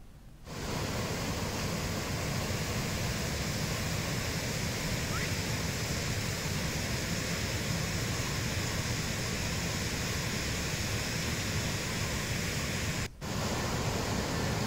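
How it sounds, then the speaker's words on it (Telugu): Floodwater on the Musi River in Hyderabad rushes past at a dangerous level, a dense, unbroken roar of churning water held loud and constant throughout, with a brief dropout near the end. "హైదరాబాద్లో మూసీ నది ప్రమాదకర స్థాయిలో ప్రవహిస్తోంది"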